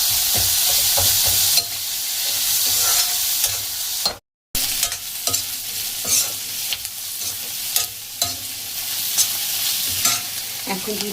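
Vegetables for a breakfast pasta dish sizzle in a pan with a little salt, loud and steady, while a spatula stirs and scrapes in repeated strokes. One brief dropout breaks the sound partway through.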